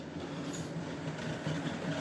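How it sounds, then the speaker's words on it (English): A model railway locomotive hauls a rake of coal wagons, giving a steady, close mechanical rumble and faint rolling clatter with no pauses and nobody talking. "this locomotive will now only pull these coal wagons"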